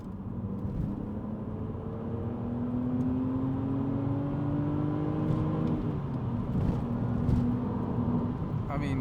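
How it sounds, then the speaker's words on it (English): Engine of a BMW Z4 Coupe pulling hard in third gear on a mountain pass, with a continuous rising drone and rumble heard from inside the cabin. Faint talk sits beneath the steady engine roar. "we'll shift down into third, and we'll do a third gear pull"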